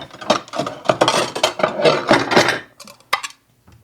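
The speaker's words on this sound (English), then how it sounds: "I'm going to get us out a couple of plates here," Dishes and plates clatter and scrape close by as they are pulled out for serving cake, a busy run of clinks and knocks ending in a couple of sharper taps.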